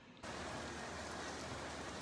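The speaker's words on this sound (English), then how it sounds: "Never would have guessed we were going to get this much rain today" Heavy rain pours down outdoors, bursting in abruptly after a quiet instant and then holding as a dense, steady hiss of drops drumming on surfaces, with no voices.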